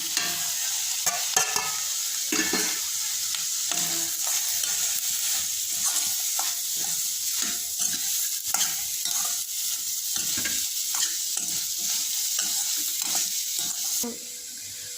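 Continuous sizzling of frying onions in a hot pan as chili powder, garam masala, turmeric and salt are stirred in, with steady scraping strokes, close and fairly busy throughout, easing off right at the end.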